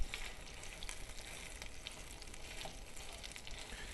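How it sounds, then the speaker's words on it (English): Beef searing in a hot pan with a water-containing butter blend, giving a steady, close sizzle and crackle with scattered pops throughout, no voices. "Can you see that sizzling?"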